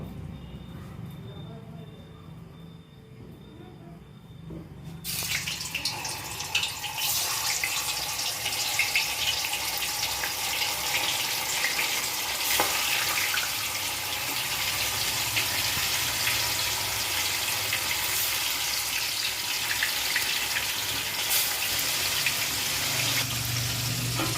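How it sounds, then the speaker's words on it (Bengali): Paneer pieces hit hot white cooking oil, setting off a steady, loud hiss and sizzle that begins abruptly and holds for the rest of the stretch, with a voice talking over it. "আমার গরম হয়ে গেছে, এবার আমি পনিরগুলো এর মধ্যে দিয়ে দেব"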